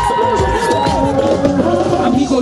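Loud crowd cheering and applause at a children's day festival held by a Christian community in Mexico City, sustained and dense throughout with some voices and music-like tones mixed in.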